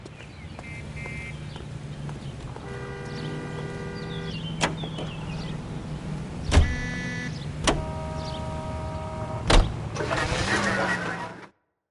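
A car driven in L.A. Noire hums along steadily, with several sharp thumps and a sustained tonal whine partway through, before the sound cuts off abruptly.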